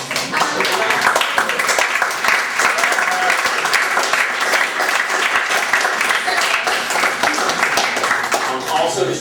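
An assembly audience breaks into dense, sustained applause, many hands clapping steadily throughout with some voices mixed in.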